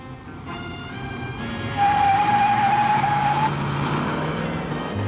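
A Dodge Charger with an automatic transmission accelerates hard from the line on a road test, its engine rising to a loud, sustained roar with a tire squeal partway through, heard close.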